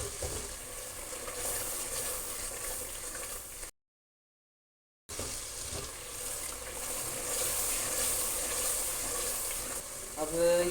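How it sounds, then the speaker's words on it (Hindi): Chana kofta roasts in a pan with a steady sizzle and occasional spoon scrapes, broken by a short silent gap, with faint talk in the background. "अब इसमें हम चम्मच चलाते हैं। अब अच्छी तरह इनको भून लेते हैं।"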